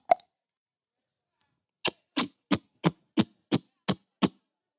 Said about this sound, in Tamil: ஆப்பிள் கட் பண்ணியாச்சு